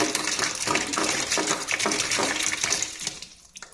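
Steady splashing rush of water pouring out of a water softener's drain, continuous and fairly close, tapering off near the end.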